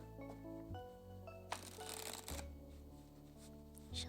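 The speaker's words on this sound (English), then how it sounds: "I have to shuffle the cards." A burst of tarot cards riffling and shuffling, brief and close, over a soft background of sustained tones.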